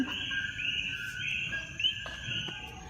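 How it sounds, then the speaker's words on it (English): Tropical rainforest at night, a steady layered chorus of insects or frogs with sustained high trilling tones and scattered bird chirps over a low rumbling background. "You can hear all the frogs and birds."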